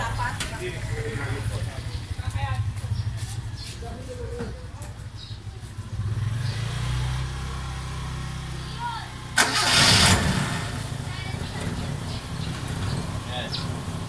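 A car's engine cranks and starts through a fingerprint anti-carnap device, with engine noise heard early, then a louder burst as it fires around the middle before settling into a steady idle, with people talking throughout.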